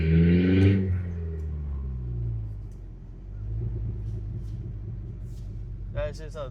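Exhaust pops and crackles from a cheap 1500-dollar Ford Ranger pickup lifting off the throttle on deceleration during a drive, heard as a loud engine rumble that eases down with sputtering bursts, followed by a brief voice near the end.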